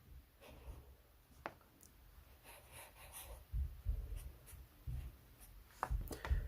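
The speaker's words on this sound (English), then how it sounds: "So let's write those conditions here." A marker squeaks and taps on a board in an Arabic lesson, heard as a series of short strokes and scratches, quiet and close, with soft rubbing between them and no talk.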